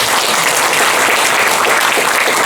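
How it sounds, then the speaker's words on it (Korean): Audience applause fills the hall at the close of a talk at an academic conference, a dense, steady wash of many hands clapping together without a break, loud and even throughout. "다시 한번 큰 박수 부탁드립니다."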